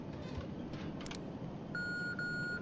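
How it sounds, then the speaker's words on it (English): A steady electronic beep tone sounds inside the horror video game Conarium, starting partway through and holding at a constant pitch with brief breaks, over low ambient game noise. "Right, what was it that was beeping?"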